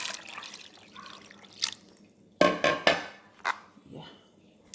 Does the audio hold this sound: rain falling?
no